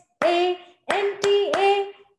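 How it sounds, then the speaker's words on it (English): Hands clap along to a sung children's Santa song, with four sharp claps in an uneven rhythm, each landing on a sustained sung note, close and clear. "the clapping that we do, observe it really carefully"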